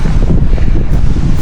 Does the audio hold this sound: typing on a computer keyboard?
no